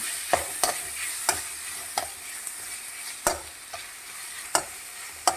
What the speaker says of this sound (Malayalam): വെള്ളമില്ലാതെ റോസ്റ്റ് ചെയ്തെടുക്കണം ഇഞ്ചി വെളുത്തുള്ളി ചേർത്ത്